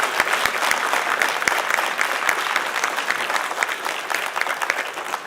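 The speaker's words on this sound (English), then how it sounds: "Let's give these folks another big round of applause." Steady, dense applause from an audience at a transit authority board of directors meeting, filling the whole stretch at an even, full level with no talk over it.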